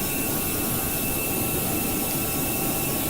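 Simulated jet engines of a British Airways Airbus A320neo climb out of Heathrow, producing a dense, constant roar that stays loud and unchanging throughout the short stretch, with no talking.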